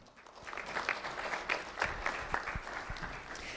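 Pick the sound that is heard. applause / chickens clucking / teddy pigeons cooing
applause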